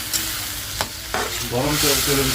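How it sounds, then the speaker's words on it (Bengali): Spice paste being fried and stirred in a pan, with scraping strokes over a building sizzle that grows louder toward the end, close up and without talk. "মশলাটা কিন্তু ভালো করে ভাজতে হবে"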